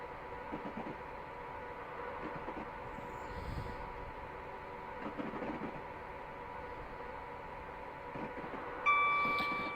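A Class 89 electric train picks up speed in Train Simulator Classic, a steady hum and rumble with a sustained tonal whine, quiet and even, with a brief louder tone near the end.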